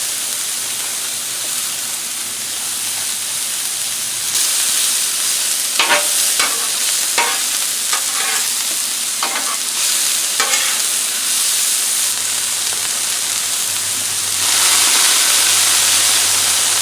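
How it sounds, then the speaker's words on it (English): Zucchini, onion and mixed vegetables stir-fry on a Blackstone griddle, giving a steady broad sizzle and hiss with several scraping, tossing strokes of a spatula in the middle, louder and fuller near the end. "I'm going to toss these vegetables and then add my zucchini and onion in the middle"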